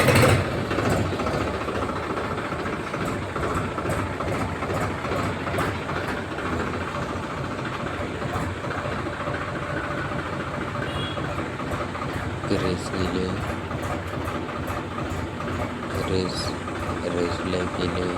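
A tractor engine runs steadily at close range while its hydraulic trolley lift, which is failing to raise, is checked. The loud continuous rumble carries on throughout with no talking.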